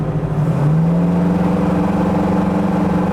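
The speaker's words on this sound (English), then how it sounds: "Engine sounds healthy." A 1970 Ford Mustang Mach 1 engine hums steadily while driving at about 50, its pitch rising slightly then holding, with road noise beneath.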